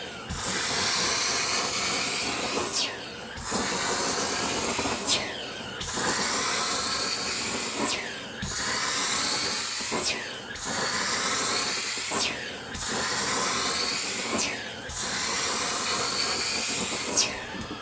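A heated carpet cleaning machine extracts a coffee stain from a wool area rug in eight close, loud hissing suction passes of about two seconds each, every pass broken by a brief pause.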